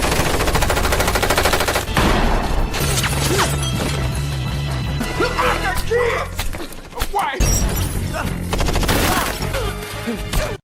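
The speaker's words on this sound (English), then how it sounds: "the man suddenly shot Jack, and a shootout ensues." A movie shootout: dense, loud bursts of machine-gun and gunshot fire run continuously, with crashes and impacts, over a constant music and effects bed.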